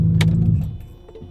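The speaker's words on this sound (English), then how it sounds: "all you do is turn the key off." A Ferrari 458 Italia engine idles with a low, loud rumble, a quick clack of the key turning off, then the running sound fades away and leaves faint clicks and mechanical settling as the car goes into park.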